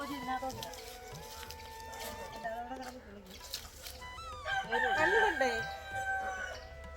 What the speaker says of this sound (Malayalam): നമ്മുടെ കോഴി ഇങ്ങനെ കേട്ടോ അതിന് ഇപ്പഴും നേരം വെളുത്തിട്ടില്ല